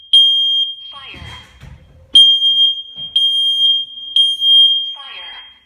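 A household smoke and carbon monoxide alarm is tested in a dining room beside a downstairs bedroom, sounding loud shrill repeated beeps broken up by a synthetic voice announcing warnings.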